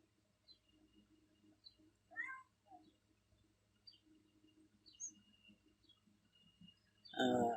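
A cat gives a couple of faint meows, then one louder, nearer meow at the end, over a quiet background with soft distant voices.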